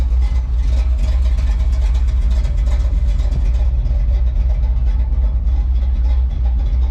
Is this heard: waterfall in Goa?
no